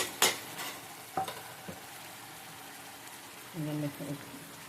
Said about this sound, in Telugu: బాగా కలుపుకోవాలి, బాగా వాడిపోవాలండి టమాటా